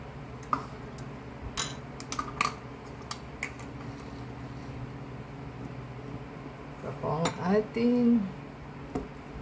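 Waffle pancake batter of egg and water is beaten in a bowl, heard as light, irregular clinks and taps of a utensil against the dish, mostly quiet, with a short voiced moment near the end.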